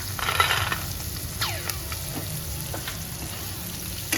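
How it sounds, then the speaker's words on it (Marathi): Roasted peanuts fry with asafoetida and turmeric in oil for vermicelli upma, a soft continuous sizzle with occasional light stirring scrapes, close and alone. "हिंग टाकायचं हळद टाकायची आणि असं भाजलेले शेंगदाणे"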